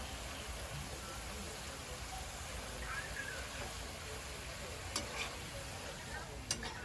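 Banana pieces frying in a mix of butter and oil, a steady low sizzle throughout with a couple of sharp clicks near the end, like utensils touching the pan.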